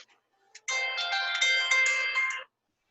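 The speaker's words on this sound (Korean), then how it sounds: "전화가 왜 왔지?" An incoming phone call's ringtone chimes loudly and alone for nearly two seconds, a bright melodic electronic jingle after a few faint clicks, then cuts off into silence.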